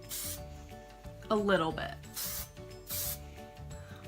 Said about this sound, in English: So I'm just gonna go ahead and do a quick little spray